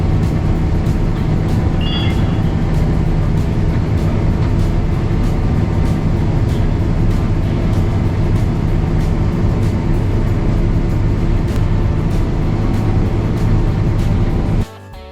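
A combine harvester unloading grain gives a steady, loud mechanical drone, with a constant engine hum and rattling, then cuts off abruptly at the end.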